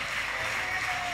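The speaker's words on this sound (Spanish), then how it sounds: "Aplausos para X6." An audience applauds at a League of Legends esports grand final, a steady, dense clapping that runs continuously through the moment.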